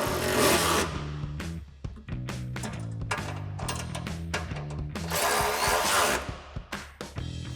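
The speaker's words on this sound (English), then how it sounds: "So we're gonna push up on this and tighten down our brackets with our 13 mil socket." A ratchet with a 13 mm socket tightens the exhaust brackets of an SLP LoudMouth axle-back exhaust on a 2005-2008 Corvette, giving fast bursts of close metallic clicking, briefly paused and resumed, over a steady background hum.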